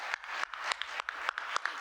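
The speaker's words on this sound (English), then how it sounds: "Give yourself a round of applause for being here." Audience applause at a community listening session in Harlem, a quick burst of scattered hand claps from a small crowd, fairly faint and brief with no talking over it.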